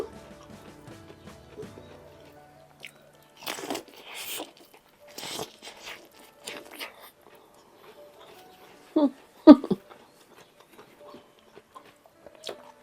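Raw Japanese sweet corn being bitten and chewed up close, with a few crisp crunches and short moist chewing bursts spread across the stretch, separated by quiet pauses and light handling noise.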